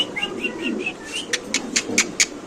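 A male pigeon coos softly close by at a pigeon farm, mixed with a run of short high chirps and a few sharp clicks.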